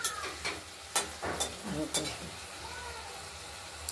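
Onion, garlic and spices stir-fry in oil for an egg curry, giving a soft sizzle broken by a few sharp spatula scrapes and taps against the pan, close and fairly quiet.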